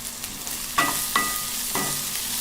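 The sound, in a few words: stirring French beans and potatoes with salt and turmeric in pan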